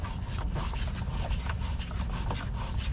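Rubbing, grinding friction of a hand twisting a stuck fuel filter on a Cummins ISX engine in an International truck, a steady close scraping texture with no pauses, no talking.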